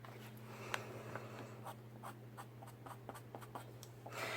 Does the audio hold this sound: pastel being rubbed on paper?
yes